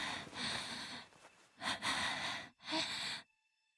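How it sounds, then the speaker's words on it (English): Panting breaths in the visual novel game Chaos;Child, three heavy, airy exhalations close to the ear in quick succession, then silence. "Heard panting in my ear."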